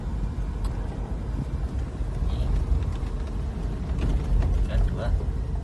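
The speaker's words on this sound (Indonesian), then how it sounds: "Nah, itu RPM-nya, dia naik, yang menandakan engine brake." Automatic car held in gear 3 on a downhill slope, engine braking with its revs rising, a low steady engine drone and cabin rumble under someone speaking.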